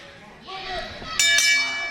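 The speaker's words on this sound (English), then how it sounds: "And the bell is sounding." At a live wrestling match in Rockford, the ring bell strikes twice in quick succession to start the bout, ringing out bright and clear under a commentator's ongoing talk.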